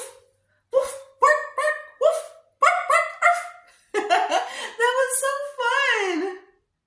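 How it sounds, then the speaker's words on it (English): A dog barks again and again in quick bursts of sharp yips and woofs, loud and close, the last few barks running together with no talk around them. "Have you ever heard a dog bark?"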